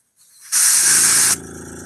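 Vallejo gray paint sprayed from an airbrush or spray can, a single steady hiss lasting under a second after a faint lead-in, close and loud, with no talk.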